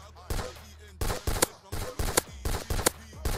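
Video game gunfire rings out in short, loud bursts of rapid shots, repeated about every half second with brief gaps between volleys.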